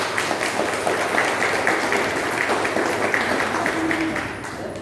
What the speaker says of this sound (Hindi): इनके लिए जोरदार ताली हो